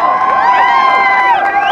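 A crowd cheers and shouts at the finish of a Foley Cup varsity eight rowing race on the river, in a brief, loud, continuous burst.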